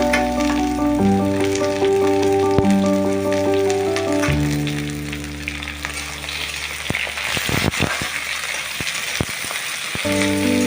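Onion, garlic and sliced chili hit hot oil in a pan where potatoes have been frying, giving a loud, close, constant sizzle with sharp crackles and spits, while a musical background plays underneath.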